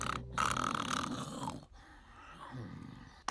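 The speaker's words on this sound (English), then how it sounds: "You're snoring again!" A person snores in an animated trailer, with loud, rough, grunting breaths that rise and fall in a couple of long rasping pulls.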